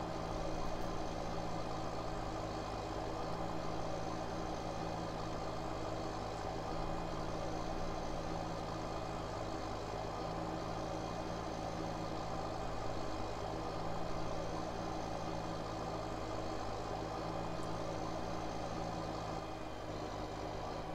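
A tractor engine runs steadily in the video game Farming Simulator 15, a constant low droning hum with a slight whine that holds at an even level without voices.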